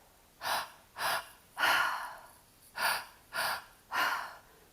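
Six deep, forceful breaths during a guided breathwork session, each a close, airy rush lasting about half a second, spaced evenly with short quiet gaps and no talking over them.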